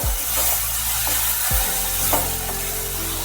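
Spinach with shrimp and turmeric fries in a pan, a loud steady sizzle, while a wooden spatula knocks and scrapes against the pan in a few distinct strokes.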